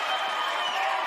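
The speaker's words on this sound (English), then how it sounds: "The Bendigo crowd enjoyed that." Crowd at a Bendigo Spirit WNBL finals basketball game roaring steadily after an offensive foul, a dense, sustained wash of cheering voices filling the arena for about a second.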